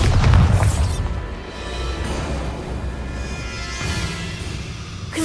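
Explosive blasts from the Bombarda spell in Hogwarts Legacy: a heavy booming burst up front, then a rumbling tail and a second crack of impact about four seconds in, loud and close with no talk over it.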